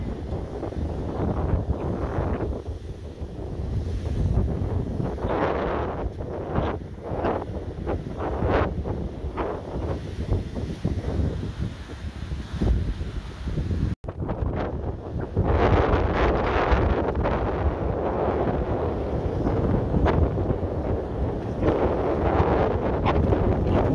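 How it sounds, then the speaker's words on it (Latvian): Wind roars and buffets the microphone throughout, rising and falling in gusts with a brief dropout midway; no voices. "pagaidām tikai vējš pūš"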